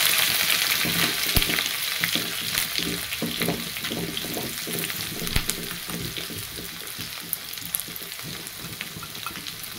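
Curry leaves and ginger-garlic paste crackle and sizzle loudly in hot oil, with sharp pops and the scrape of stirring running through the whole stretch, and no talking.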